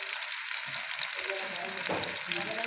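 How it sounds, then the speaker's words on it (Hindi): Chapli kababs fry in oil in a pan with a steady, close, crackling sizzle and a brief scrape partway through. "अच्छे से इसे फ्राई और कुक करना है।"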